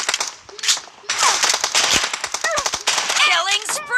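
Shotgun blasts ring out in quick, irregular bursts during a multiplayer video game match, loud and close, mixed with game announcer voice lines and other in-game effects.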